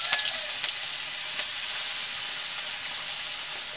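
Small chuna fish frying in hot oil, giving a loud, steady, close-up sizzle with a few faint crackles near the start.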